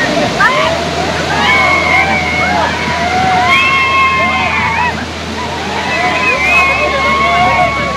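A waterfall at Amboli Ghat in Maharashtra roars loudly and steadily with close splashing spray, while several people talk and call out over it.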